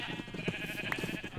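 Sheep bleating in the Minecraft video game, several short game-sound bleats over a busy background of other in-game noises, fairly close and moderately loud.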